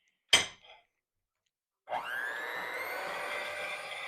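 A single sharp knock comes first, then silence. After it an electric mixer starts whirring and beats egg whites in a kitchen, a continuous high-pitched drone that stays close and steady.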